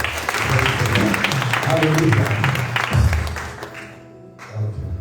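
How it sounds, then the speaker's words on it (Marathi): A church congregation claps loudly together in a dense burst of applause during a worship service, with voices mixed in, before it fades toward quiet near the end. "पण जोरात टाळ्या वाजवा"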